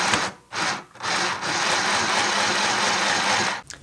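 An $8 Temu sewing machine runs steadily while stitching a shirt hem, a dense continuous whirring buzz broken by two brief pauses near the start, then sustained and fairly loud until it stops.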